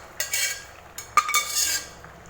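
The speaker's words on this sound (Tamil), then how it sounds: "வேக வச்சுருக்கிறேன் பருப்பை இதில் சேர்த்திக்கலாம்" Boiled dal tipped into an eggplant and potato masala in a pot: a few sharp spoon clinks and soft scraping stirs, close up and brief, with no talking.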